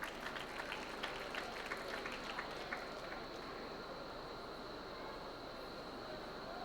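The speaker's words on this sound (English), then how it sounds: "Big round of applause there, 30 seconds." A round of applause at a competition event, very faint and distant, with scattered claps fading out after a few seconds into a steady low background hum.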